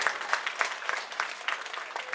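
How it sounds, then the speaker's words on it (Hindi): Crowd applause at an Aam Aadmi Party rally in Mustafabad, Delhi, for party workers, a steady dense patter of many hands clapping at moderate distance, sustained throughout without speech. "कार्यकर्ताओं के लिए जोरदार तालियां आप लोग बजा दें।"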